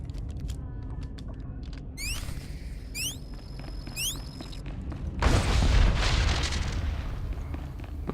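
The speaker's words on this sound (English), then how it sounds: "I was still close enough to see the explosion." An explosion in a Star Wars video game mission on Coruscant bursts out loud and broad after several seconds of softer ambient game sounds and a few high chirps, then rumbles on steadily.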